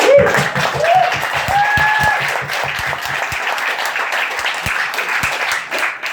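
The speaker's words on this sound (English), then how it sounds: "Let's go ahead and another round of applause and thank you for your service." Applause from a town hall audience in Pella, Iowa, honoring a veteran: dense, sustained clapping from a crowd that fills the room, with a voice speaking over it near the start before the clapping thins toward the end.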